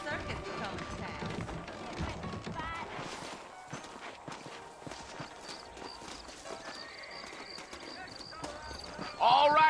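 Horses in Red Dead Redemption move along in the open, their hoof clip-clops rhythmic and fairly close beneath ongoing conversation, with a short whinny near the end.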